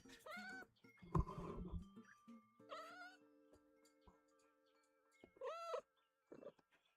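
A cat meows several times in short, rising-and-falling calls near a desk, with a louder burst of rustling and a faint steady electronic hum between cries.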